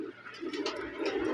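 Racer pigeons on a pigeon farm cooing in soft, low repeated murmurs, close by and fairly steady throughout, with light background noise.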